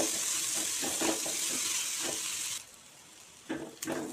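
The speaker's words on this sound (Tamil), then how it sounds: "வெங்காயம் வதங்கி வரணுங்க" Onions and curry leaves sautéing in a pan give a steady broadband sizzle for about two and a half seconds, then fade quieter with a couple of brief stirring scrapes near the end.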